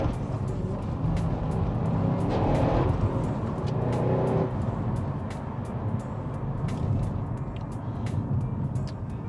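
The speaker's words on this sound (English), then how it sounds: "once that V8 starts to bellow" A Vauxhall VXR8 GTS-R's V8 engine bellows in a steady, loud, close roar that swells slightly and then holds, with no one talking over it.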